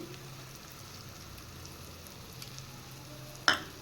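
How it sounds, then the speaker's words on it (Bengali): Crab roe added to fried spice paste in a pan gives a soft, faint steady sizzle, ending in one sharp brief splash or clink at the close, with no talk. "মশলা কষানো হয়ে গেছে এবার আমি এখানে দিয়ে দেব কাঁকড়া ঘিলু"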